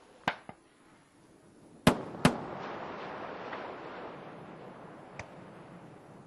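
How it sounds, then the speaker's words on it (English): Sonic booms from Space Shuttle Endeavour arriving for landing at the STS-127 landing site sound as sharp distant cracks: an early pair, then a loud double boom near the middle and a fainter one later, over wind and ambient rumble. "Sonic booms audible at the landing site."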